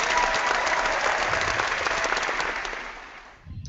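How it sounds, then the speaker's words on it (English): Audience applause: a burst of dense, even clapping from a crowd that holds steady and then fades out over about three seconds, ending in near quiet. "Wow, Marcus got applause."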